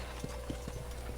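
A horse's hooves clip-clop in Red Dead Redemption, a steady run of close, soft hoofbeats over a constant low background hum.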